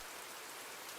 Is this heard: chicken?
no